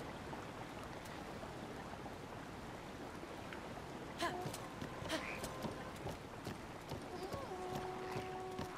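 Horse hooves clip-clop steadily as Link rides through The Legend of Zelda: Breath of the Wild, a continuous galloping patter under ambient game sound and light water noise, with some tonal game chimes later.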